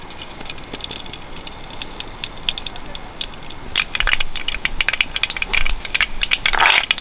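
Mustard seeds hit hot coconut oil in a pan: a quiet low hiss, then a sudden burst of dense crackling and rapid popping that keeps on loud, with some bursts sharper than others.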